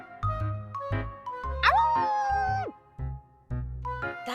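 A dog barks repeatedly in a video game, sharp woofs in an uneven rhythm, with one drawn-out howling yelp in the middle, loud and close with no talking.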